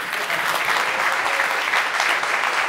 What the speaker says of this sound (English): Round of applause for a world-leading expert in the room.